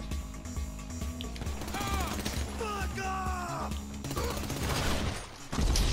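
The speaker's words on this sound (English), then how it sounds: "Where the fuck are you shooting from?" Gunfire in the Drug Wars update of a video game: bursts of shots and mechanical clatter run through the whole stretch under game music, with a voice talking over it.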